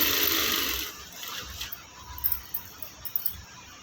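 A sewing machine stitches a denim jeans top, giving a soft, fairly quiet mechanical whir with faint rapid ticking that settles into gentle, slightly uneven pulses, with no voices.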